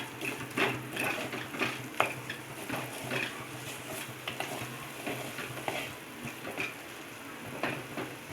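Masala spices with chili powder sizzling in a pan for a broccoli peas curry, stirred with a utensil that clicks and scrapes against the pan in an irregular rhythm over a continuous frying hiss.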